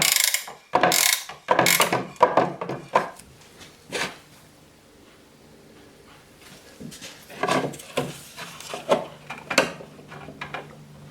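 A ratchet clicks in short bursts while loosening the transmission fill plug on a 2004 BMW E46 325Ci Getrag gearbox, with irregular clusters of sharp pawl clicks separated by pauses, close by and with no talk.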